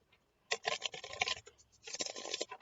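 Tarot cards being shuffled and cut, two close, crisp bursts of papery riffling and scraping separated by a short pause, quiet and without talk.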